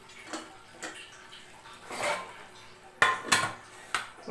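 A metal pot lid clanks shut over a mushroom biryani topped with mint and coriander. A few close knocks and scrapes of metal on metal are heard, with the sharpest clatter coming near the end.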